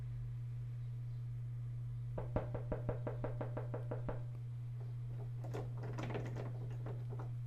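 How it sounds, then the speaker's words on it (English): Repeated knocking on a door in a horror video game: about a dozen quick, sharp raps in a steady rhythm over a constant low hum, followed by scattered softer rattles and bumps like the door being tried. "Oh, he's knocking."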